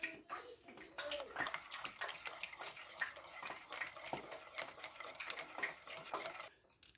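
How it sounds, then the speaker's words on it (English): Eggs are whisked into a batter for chunky fried fish, making a soft, continuous wet clicking and swishing of a utensil against a bowl, close and fairly quiet, with no talking. "So into that we need to put the 2 eggs."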